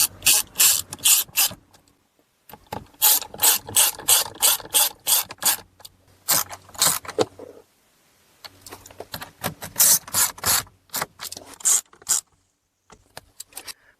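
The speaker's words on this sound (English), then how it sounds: "just put these 7mm bolts back in here and tighten them up" A hand ratchet tightens 7mm bolts on a brake pedal assembly in a Buick Lacrosse or Regal, Cadillac SRX or XTS, giving loud, close bursts of rapid clicking with short pauses between strokes and no talk.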